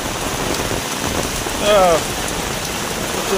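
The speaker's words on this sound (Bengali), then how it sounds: "বৃষ্টি, এই তো বৃষ্টি" Steady rain falls outdoors near a mango tree, a constant close patter and hiss throughout, with a voice speaking briefly over it.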